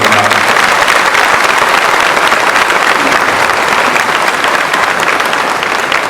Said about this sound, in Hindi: एक बार सभी एक दूसरे के उत्साहवर्धन में तालियों की बजाएं